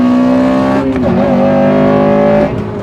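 Honda Civic Type R or Subaru STI accelerating hard on a karting track, a loud, steady engine note rising in pitch, dipping briefly, then climbing again up close.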